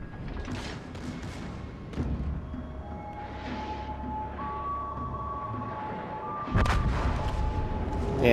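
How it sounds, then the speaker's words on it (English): Battleship gunfire in the naval video game World of Warships: Legends: deep, heavy booming salvos and thuds over a steady rumbling game soundscape, with a strong blast near the end. "when you got two battleships shooting at you, nothing you can really do about it"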